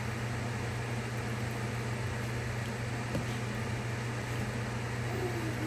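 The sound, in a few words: kitchen exhaust fan running while frying fish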